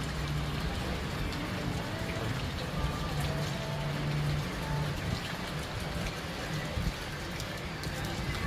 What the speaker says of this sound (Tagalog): Kasi ang lakas ng ulan dito sa amin ngayon.